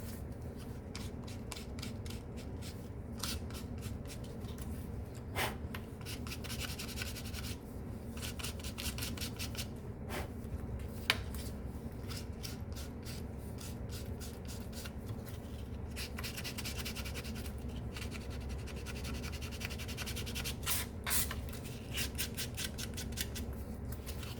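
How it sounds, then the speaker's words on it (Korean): Steady rasping and rubbing of sandpaper on a gold bracelet, continuous back-and-forth strokes with occasional sharper scrapes, close up and without talk. "사포로 다듬어 줄 때는"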